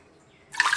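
Water is poured into a pressure cooker holding soaked ingredients, garlic and asafoetida for a white pumpkin sambar, a short splashing gush that starts abruptly after a moment of quiet.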